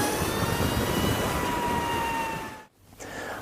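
An LS218 electric motorcycle at throttle gives a loud, steady electric whine over rushing wind noise. The sound dips sharply near the end, then returns.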